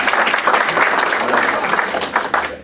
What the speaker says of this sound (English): We should applaud for your.